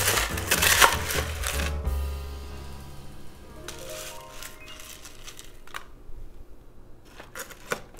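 Ice cubes tumble and clatter into a glass of blueberry mojito, a close crunchy rattle in bursts near the start and again mid-clip, with small clinks afterward.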